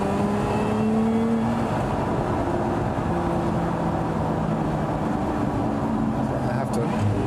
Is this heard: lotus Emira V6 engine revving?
yes